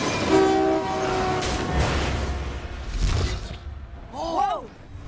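A train horn blares over a busy, loud action-film soundtrack from GI Joe: Rise of Cobra, with rumbling rail noise and effects before a short rising whine near the end.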